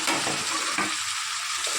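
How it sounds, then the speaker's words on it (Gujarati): Tomatoes and capsicum drop into a pan of frying garlic and onion, setting off a loud, close sizzle with stirring scrapes throughout, no talking. "હવે આપણે અંદર ટામેટાં નાખીએ અને સાથે સાથે આપણે કેપ્સિકમ પણ નાખી દઈએ."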